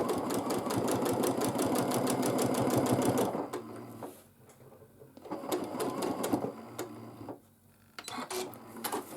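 A sewing machine does free-motion quilting on a quilt, stitching in a fast steady run for a few seconds, then breaking into short starts and stops with brief gaps, fairly close and clear.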